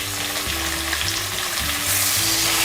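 Onion frying in oil with whole spices, a dense, steady close-up sizzle that continues without a break, with faint stirring and no voices.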